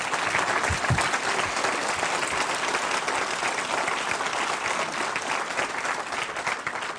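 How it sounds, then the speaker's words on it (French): An audience at an evening political gathering in Changé applauds Jean-François Copé, a dense, steady roar of many hands clapping at even loudness throughout, with no voices above it. "Jean-François, vous pouvez l'applaudir."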